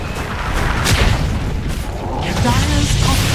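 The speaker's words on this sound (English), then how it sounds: "Dire's top tower has fallen." A tower crumbling in the Dota 2 video game, heard as a loud, dense booming rumble sustained throughout, with crashing bursts layered over busy game noise.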